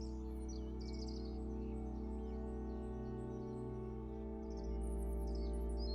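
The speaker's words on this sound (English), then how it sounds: "Listening to birds." Birds chirp in short bursts over a steady low electronic hum and drone in the Stray video game, the chirps light and somewhat distant.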